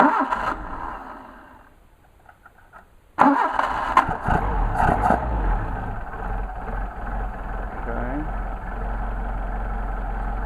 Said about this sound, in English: So let's just go ahead and start this engine.